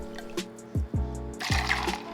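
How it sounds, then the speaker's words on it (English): Vodka trickles into a shot glass in a brief, nearby pour broken by a couple of gulping glugs, ending in a brighter splashy rush. "Next is vodka, and another ounce is what you'll need."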